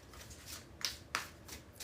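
Tarot cards being shuffled by hand during a live reading, a soft riffling rustle with a couple of sharper card snaps, close and quiet, with no talking.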